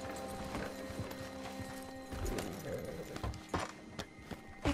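Horses' hooves clip-clop along in the Western video game Red Dead Online, a run of dull, uneven thuds under a busy, low background rumble.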